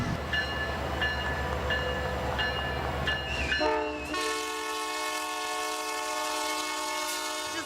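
CP Holiday Train arriving at a festive family event, its horn blaring loud and sustained over the rumble and clatter of the rail cars, then holding a steady chord as the wheel noise drops away.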